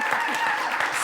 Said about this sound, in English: let's give her a hand of applause.